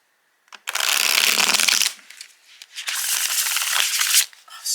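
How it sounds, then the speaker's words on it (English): Tarot deck being shuffled by hand, two loud bursts of riffling card noise close up with a short pause between, no talk. "We know this is gonna be a good shuffle."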